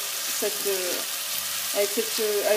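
Minced meat coated in tomato paste frying in a pan while being stirred, with a steady sizzle and scraping stir strokes in two bursts, close and moderately loud.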